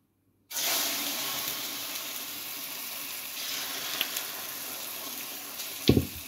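Loud, steady sizzling of eggplant frying in a hot pan starts abruptly and crackles continuously, with a couple of small clinks and a scrape near the end.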